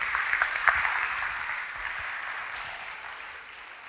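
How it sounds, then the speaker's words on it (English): Wedding guests applauding both sets of parents during the reception speeches, a steady, moderately distant round of clapping that fades gradually over a few seconds. "A round of applause for both parents"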